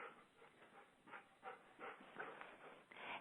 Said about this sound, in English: I got a little distracted here by Neo, my little dog